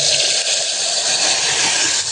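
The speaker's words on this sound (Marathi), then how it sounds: "मी अजून थोडंसं पाणी घालून घेते" Water poured into a vegetable curry of chickpea greens in a pot, a steady loud gushing splash that runs unbroken throughout, close by with no talking.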